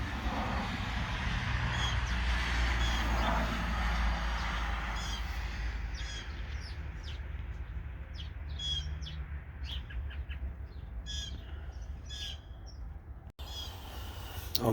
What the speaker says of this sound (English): I'll miss these birds.